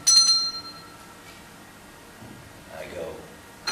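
A single bell strikes as a knell during a stage performance of Macbeth, its ringing tone sharp at first and then decaying away, followed by quiet and faint voices.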